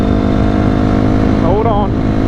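A Honda CRF 250R dirt bike accelerates hard and throws roost, its engine a loud, steady drone close to the mic, with a brief rising pitch sweep near the end.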